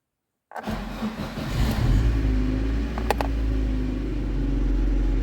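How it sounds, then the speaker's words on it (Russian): A VAZ 2112 car fitted with a new ignition module and new spark plugs, previously running unevenly, cranks and fires after a half-second of silence. The engine catches quickly and settles into a steady, fairly loud idle. "Двигатель запущен."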